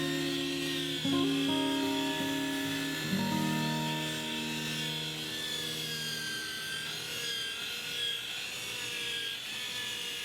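A steady whirring hum of a spinning lathe carries a soft, continuous rasp of sandpaper rubbing against a turned maple sink, with no talking.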